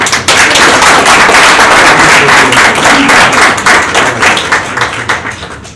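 Loud, dense applause from an audience at a school board meeting, many hands clapping close by for several seconds before gradually thinning out.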